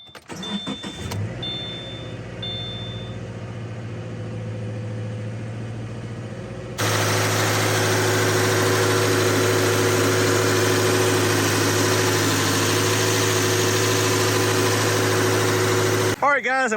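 A 2013 Subaru Impreza Sport idles after a radiator replacement with a steady, close engine hum, and a louder broadband rush of cooling fans switches on partway and then cuts off near the end, with brief talk early.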